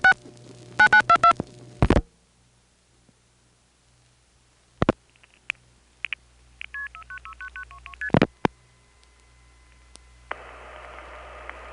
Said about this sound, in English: Here's a call to Washingtonville via Bronx, White Plains 2,